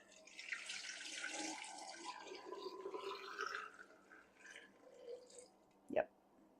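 Liquid is poured over stored eggs, a soft splashing and trickling stream that fades out, followed by a single sharp knock near the end.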